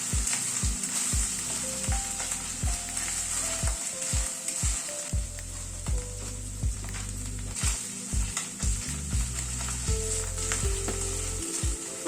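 Ginger, garlic and onion fry gently in a pan over a low flame, a soft constant sizzle punctuated by regular rhythmic strokes of a spatula stirring.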